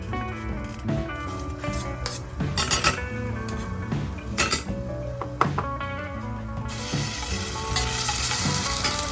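Garlic and sofrito sauté in oil in a pan, a continuous sizzle under repeated clinks and scrapes of a utensil on cookware, with background music throughout.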